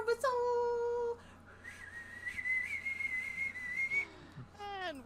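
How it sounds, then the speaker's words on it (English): A whistle item used in a video game sounds as a sustained, steady tone, first briefly at a higher pitch and then as a long, wavering tone lasting a few seconds, played loud and close with no talking. "I got an adventure whistle"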